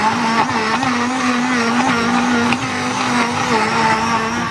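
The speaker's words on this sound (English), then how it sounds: "So I'm using my hand blender to blend everything together." Hand blender whirring continuously as it purees a sauce for Ghanaian grilled mackerel, a loud steady motor drone with slight pitch wobble throughout, heard close up with no talking.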